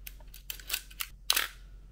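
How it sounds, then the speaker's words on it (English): Shutter of a 35mm SLR film camera firing on auto exposure, with the mirror flipping up: a few sharp mechanical clicks and snaps, close and crisp, the loudest near the end, with no talking. "we want to look through that shutter, make sure that shutter curtain is actually opening"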